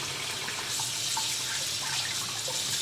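Tap water runs steadily over eggs as they are scrubbed under a kitchen faucet, a continuous hissing splash with faint clicks and knocks of shells and scrubber, close and without talk.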